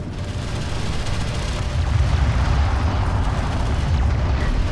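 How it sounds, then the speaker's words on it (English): An armored vehicle comes under fire in Homeworld: Deserts of Kharak, with a steady, heavy rumble of booming impacts and explosions rolling continuously and loudly throughout. "Armored vehicle is taking fire."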